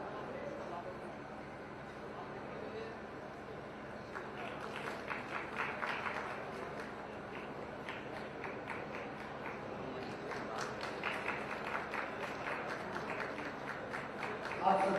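Audience clapping at an intellectuals' conference in Shahjahanpur attended by the Chief Minister, a dense patter that builds from a few seconds in and continues steadily under a man's amplified speech.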